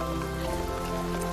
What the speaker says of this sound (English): Sorry about the rain.